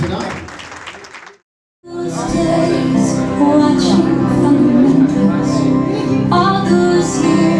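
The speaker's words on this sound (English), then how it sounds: "loads of round of applause, screams, cheers for Kate and Oliver tonight." Wedding guests applaud and cheer loudly as the cake is cut, a dense, sustained roar of clapping and shouting after a brief pause, with music or voices mixed in.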